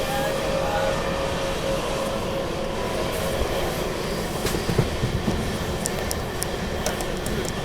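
A Simhadri Express train on the Visakhapatnam to Narsapuram line rumbles past with a steady roar, a faint squealing tone early on and sharp wheel clicks picking up toward the end, loud and close.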